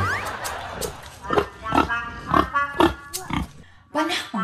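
A pig grunts and oinks in a series of close, loud bursts, with people talking over and between the calls.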